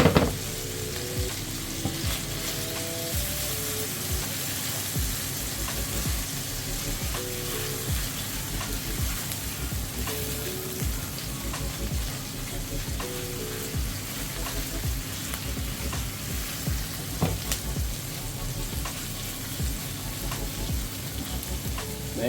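Sauce sizzling in a pan on a cooker, a steady dense crackle and hiss that continues throughout at close range, with occasional stirring scrapes and no talk.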